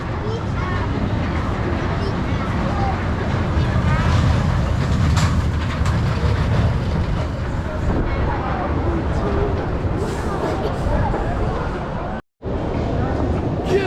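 The Backlot Stunt Coaster at Canada's Wonderland, a ride in Mini Cooper-style cars with its effects and sound not working, gives a loud, continuous rumble and clatter under crowd babble, cutting out briefly near the end.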